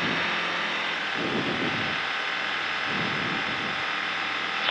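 Skyranger ultralight aircraft engine at full RPM on the takeoff run, a steady loud drone that mixes with wind and cabin noise and continues unbroken throughout.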